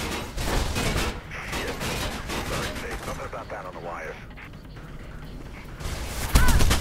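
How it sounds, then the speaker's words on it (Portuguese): Police gunfire in the Mirror's Edge game, dense rapid bursts of shots crackling loud and close, with a player's voice talking over parts of it. "para de atirar em mim, seus putos"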